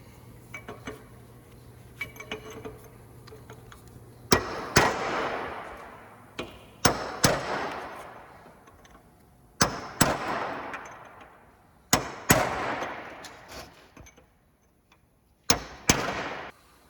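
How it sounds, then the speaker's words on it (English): Metal punch struck with a hammer against a seized snap ring on the front wheel bearing of a 2012 Toyota Matrix, giving about eight sharp ringing metallic blows in irregular pairs with short decays, close and loud between quiet pauses. "I'm going to go around and hammer down on this snap ring to try to break it free"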